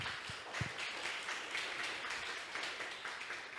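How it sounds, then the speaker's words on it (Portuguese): A church congregation applauds Jesus, sustained soft crowd clapping heard from a distance, fairly faint and even throughout. "Vamos aplaudir Jesus."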